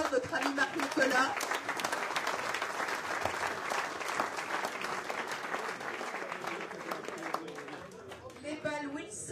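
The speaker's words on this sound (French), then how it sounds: "On peut l'applaudir très fort, notre ami Marc-Nicolas." Audience applause at a Roland Garros tennis event, steady dense clapping throughout, with crowd noise and voices mixed in.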